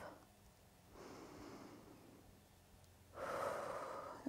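Slow breathing during a seated stretching exercise, two soft close breaths, a long exhale then a stronger breath, with no speech.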